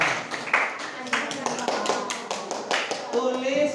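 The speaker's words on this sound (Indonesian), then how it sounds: "Tepuk tangan dong." A junior high school classroom claps hands together, a loose group of sharp, uneven claps close by, with voices heard alongside.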